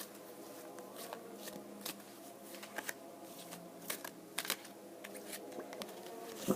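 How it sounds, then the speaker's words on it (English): Tarot cards are shuffled and drawn in soft, repeated riffles and papery flicks, with a few sharper card snaps standing out against a quiet background. "Pull one more card here."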